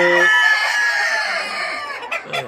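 A riverside poultry farm holding about 1800 layer hens and 250 roosters fills with loud, close clucking and overlapping crowing from many birds at once, a dense, continuous chorus.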